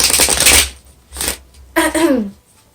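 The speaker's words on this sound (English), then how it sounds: "Sorry, these cards are huge. They're really hard to shuffle." Large tarot cards being shuffled in loud riffling bursts, three separate rounds with brief pauses, the last ending in a short voiced sound.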